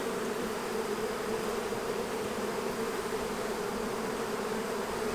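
A healthy honey bee colony hums in a continuous, dense buzz during the honey flow, steady and close with no voices over it.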